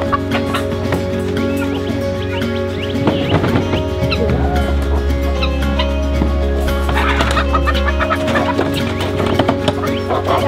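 Chickens cluck and squawk close by amid rustling and handling noises, over a steady low hum.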